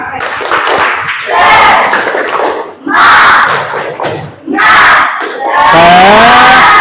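Students in a classroom perform a rhythmic clap-and-chant cheer, loud bursts of group clapping and shouted voices in roughly three or four surges, separated by brief pauses.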